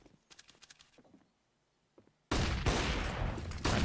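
Counter-Strike gunfire erupts in a loud, dense burst of rapid shots midway through a professional match, after a quieter stretch of soft clicks and faint taps.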